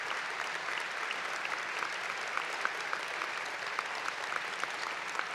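Steady applause from a university winter commencement audience, dense and continuous clapping filling the hall at an even level for several seconds, with no voices standing out.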